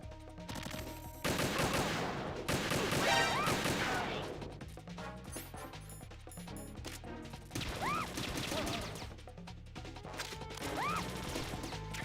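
Video game gunfire from Metal Gear Solid 2: dense, sustained shots and crashing impacts over game music, loud and continuous throughout.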